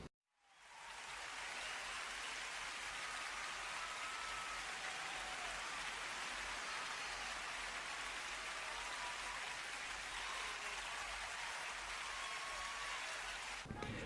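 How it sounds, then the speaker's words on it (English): A sustained round of applause from a large crowd, dense steady clapping that swells in quickly and holds at full volume. "I think we need to give Nintendo a round of applause here."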